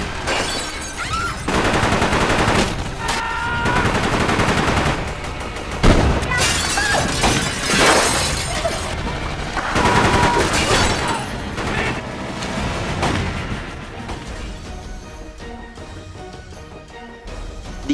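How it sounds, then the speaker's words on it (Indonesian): A film gunfight with rapid exchanges of gunfire, bursts of shots, booms and shattering impacts, loud and dense throughout, layered with dramatic soundtrack effects. "terjadilah aksi saling tembak-menembak di antara mereka"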